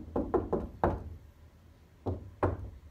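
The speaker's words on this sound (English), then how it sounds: "You need to do the secret knock to get in here." A secret knock raps on a door: four quick knocks in a row, a pause, then two more spaced knocks, close and crisp with no speech.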